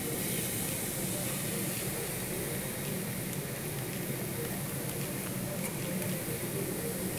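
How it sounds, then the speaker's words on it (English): A constant, dense sizzle and crackle, like hot oil frying, from microbeads mixed into slime, fills the whole stretch at an even moderate level without pause. "Listen to that sizzle."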